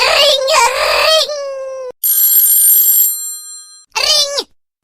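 A telephone rings in bright, harmonic bursts with pauses between them, loud and close, mixed with sung or spoken voices.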